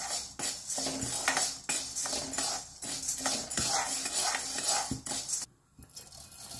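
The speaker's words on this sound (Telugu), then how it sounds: "ఫస్ట్ కందిపప్పు వేసుకున్నారు. కొంచెం బ్రౌన్ కలర్ వచ్చేంత వరకు వేయించుకోండి." Toor dal dry-roasting in a pan for sambar podi, with steady scraping and clinking of a spoon stirring the lentils, repeated rattling strokes close up, no talk.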